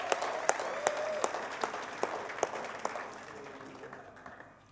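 An audience in a hall applauds, with distinct individual claps over a softer wash of clapping and murmur, tapering off toward the end.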